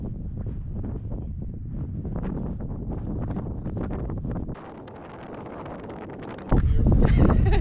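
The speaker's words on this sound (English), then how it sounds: "it's fairly windy." Strong wind gusts across a microphone outdoors on Ireland's Wild Atlantic Way. The wind makes a loud, steady rumbling buffet that dips briefly, then surges louder near the end.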